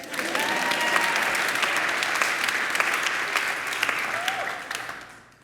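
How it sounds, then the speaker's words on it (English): An audience bursts into warm, sustained applause at a talk, a dense wash of clapping that holds steady and then tapers off near the end, with a few scattered voices underneath. "You can clap."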